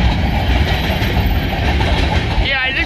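A long freight train rolls past close by, its wheels and cars producing a loud continuous rumble with rhythmic clacking, and a brief metallic squeal near the end.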